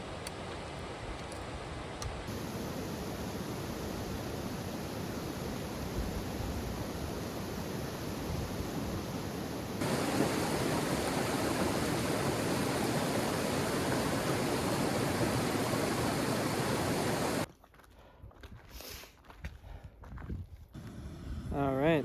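A river in the European Alps flows with a steady broadband rush, louder in the middle stretch, then giving way near the end to quieter, uneven sounds that may include footsteps.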